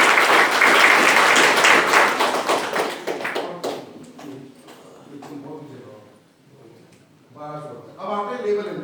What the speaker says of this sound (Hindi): पर जोरदार ताली।